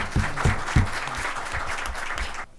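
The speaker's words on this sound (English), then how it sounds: "Please welcome a big round of applause, Brigadier Sanjay Agarwal." Applause from an audience welcoming Brigadier Sanjay Agarwal at a formal gathering. A few sharp, heavy claps open a brief, moderately loud burst of many hands that cuts off abruptly at the end.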